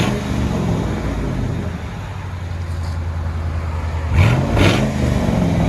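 Mercury Grand Marquis 4.6L V8 with a muffler delete, a steady loud exhaust drone that swells into two quick revs near the end, heard alone from outside the car.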